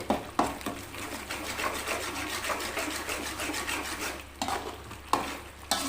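Spoon scraping and stirring spice powder through oil in a pan for puliyodharai tamarind rice, a steady close rhythmic scrape over soft sizzling, with sharper knocks near the start and end and no voices.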